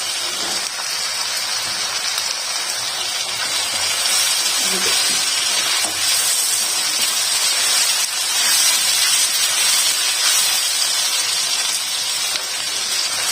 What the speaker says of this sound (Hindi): चिकन को इसके साथ थोड़ा फ्राई कर लेंगे